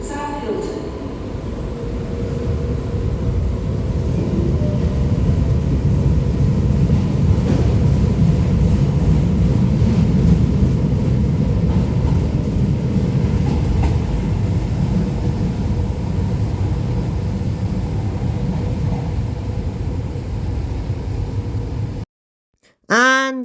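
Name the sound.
Tyne and Wear Metro train departing Sunderland Station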